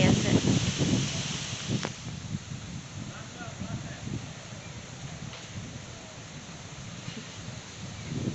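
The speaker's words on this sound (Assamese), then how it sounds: "বহুত জোৰছে বতাহ মাৰি আছে" Strong wind blows outdoors, buffeting and rustling with louder gusts at the start, then a steady moderate roar with scattered light rustles.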